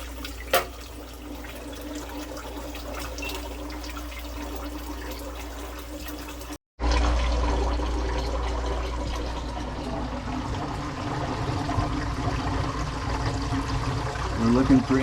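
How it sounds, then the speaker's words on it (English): Water draining down a freshly cleaned kitchen sink through the trap, a steady gurgling rush that cuts off briefly partway and resumes louder and fuller, running continuously to the end. "fill that sink up with water and dump it"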